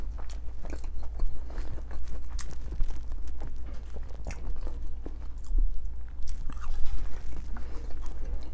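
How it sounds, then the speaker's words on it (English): Crunchy fried red chicken bitten and chewed close to the mic at a mukbang, a dense run of crisp crackling bites and wet chewing over a low steady hum. "This is some good chicken, y'all. Watch this crunch."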